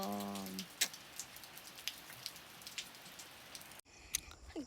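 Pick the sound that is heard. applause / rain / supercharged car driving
rain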